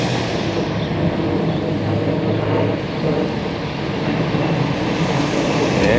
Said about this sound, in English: I hear a big jet on takeoff